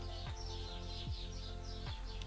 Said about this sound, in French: Il y a des oiseaux qui chantent juste au-dessus de mon toit, de ma toiture.